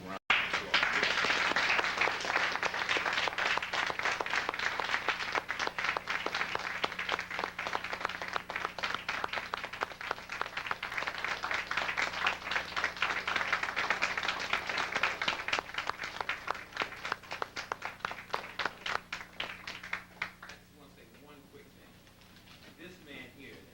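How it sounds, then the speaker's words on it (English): A live audience gives a long, warm round of applause to welcome Dr. Ben Jochannan, dense steady clapping that holds for about twenty seconds before thinning out and fading. "I'd like y'all to give him a warm round of applause"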